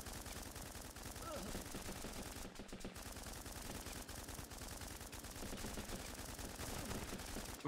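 Rapid bursts of rifle fire from the video game Running With Rifles crackle steadily throughout, dense and continuous at moderate loudness, with faint voice activity mixed in.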